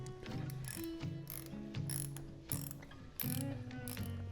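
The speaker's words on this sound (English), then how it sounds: "just kind of get that bolt pretty snug on there." Ratcheting wrench tightening the oil drain bolt on a Honda CB400T motorcycle, a run of quick metallic clicks in short bursts with brief pauses, close and fairly loud, no talk.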